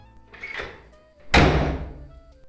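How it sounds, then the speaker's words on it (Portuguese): A loud, close door slam: one sharp heavy bang with a brief ringing decay, preceded by a softer knock or shuffle. "A porta se fechou com um novo estrondo."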